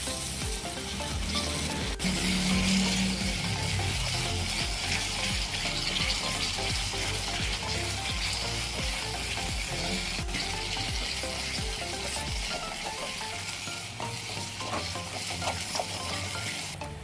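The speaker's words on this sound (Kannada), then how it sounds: "ಹೈ ಫ್ಲೇಮಲ್ಲೇ ನಾವು ಇದನ್ನು ಫ್ರೈ ಮಾಡ್ಕೋಬೇಕು" Spices for mushroom tikka masala frying on high flame in a pan, a steady loud sizzle and crackle running throughout with occasional stirring, no voices.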